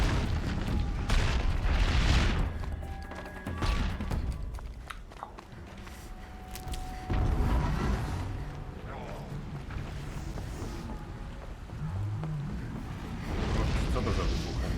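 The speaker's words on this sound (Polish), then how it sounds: "Co to za wybuchy?" Explosions in the video game Horizon Zero Dawn, several deep booming blasts rising and fading over the game's ambient sound, with a couple of brighter bursts among them.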